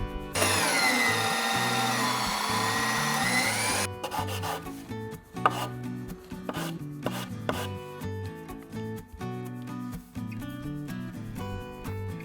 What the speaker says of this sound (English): I don't enjoy chiseling this notch